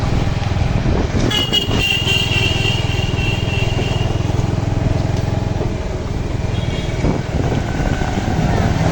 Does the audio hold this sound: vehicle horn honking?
yes